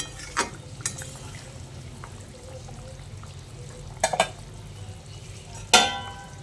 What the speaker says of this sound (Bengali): তারপরে একবার হালকা হাতে নেড়ে চেড়ে মিশিয়ে নিচ্ছি।